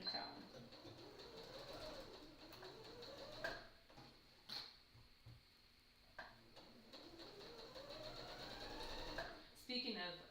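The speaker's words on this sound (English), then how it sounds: "I'm gonna go sew right down the edges" A sewing machine stitches down the edges of a tote bag's fabric, its motor whirring close and steady in runs that speed up and slow down, with some talking in the background.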